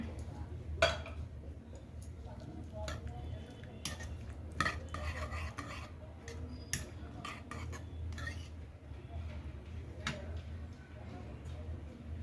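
A spoon stirs finely chopped onions and green chillies through an egg biryani mixture in a pan, giving close scraping and clinking against metal with a faint sizzle underneath, while someone talks over it.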